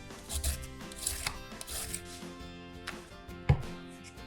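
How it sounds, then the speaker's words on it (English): Cabbage being cut into strips on a grater, with a few rough scraping chops close up and one sharper knock near the end, with no talking. "Cut it into strips just like I'm doing. I'm using a grater."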